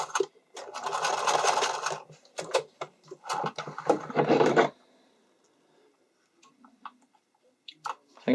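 A sewing machine sews an invisible zipper onto stretch fabric in close bursts: a long steady run, then shorter stitching spurts, followed by quiet handling noises and faint clicks.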